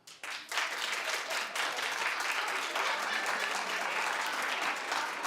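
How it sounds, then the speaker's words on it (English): A studio audience on a talk show claps in a loud, even burst that starts almost immediately and holds steady for about five seconds. "Clap if you would."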